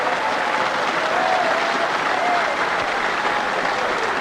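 Crowd at a wrestling show in Chicago, a dense continuous wash of applause and cheering at steady loudness, with faint whistles or shouts rising through the roar.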